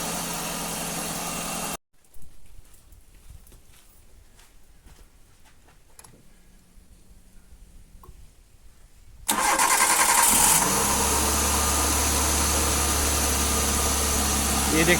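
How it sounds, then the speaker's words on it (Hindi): A Maruti Suzuki car engine cranks and fires up after a quiet stretch with faint clicks, then settles into a steady, loud idle with a constant hum and vibration. "जैसे ही हमने इंजन स्टार्ट किया"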